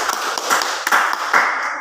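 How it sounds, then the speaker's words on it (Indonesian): A classroom of students claps together in a dense, sustained patter of overlapping hand claps, fairly loud and close, with no talk over it. "Ya, tepuk tangan dulu semuanya."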